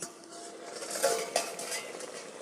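A lid set over a cooking pan of raw hilsa fish, giving a couple of light metallic clinks over a soft, steady sizzle from the stove.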